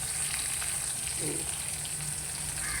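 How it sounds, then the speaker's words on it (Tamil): Chopped onion, added after fennel seeds, sizzles in hot tempering oil with a soft, steady hiss that holds at a low, even level throughout. "வெட்டி வச்சிருக்கிற வெங்காயத்தை தாளிப்பு விட்டுட்டு வரைக்கி கொஞ்சம் வெங்காயத்தை போடுவோம்"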